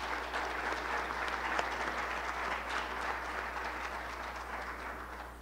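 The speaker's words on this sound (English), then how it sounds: "Let's give them all a big round of applause." A crowd at an assistance-dog graduation claps steadily and continuously, a dense even wash of applause that neither builds nor fades, with no voices standing out.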